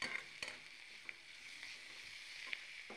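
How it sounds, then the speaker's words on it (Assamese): Pointed gourd frying in a pan gives a steady, soft sizzle throughout, with a few faint clicks of a spatula stirring and no voices. "এনেকৈ এতিয়া হৈছে পটলটো ফ্ৰাই কৰি দিওঁ"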